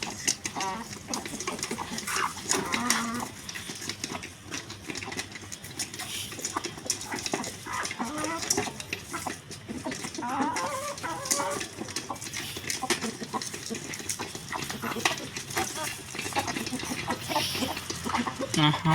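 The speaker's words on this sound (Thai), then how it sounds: "วันนี้ก็สิมาให้อาหารไก่นะทุกคนนะ" Chickens on a farm cluck and chatter continuously at feeding time in a noisy, busy yard, with a bustle of overlapping calls over steady background noise.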